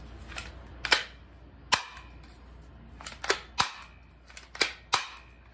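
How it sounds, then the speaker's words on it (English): A cheap P220-style BB pistol fires about eight sharp, close, snappy pops at uneven intervals, each a bright crack with a short tail over a quiet room. "Let's see if it shoots smooth."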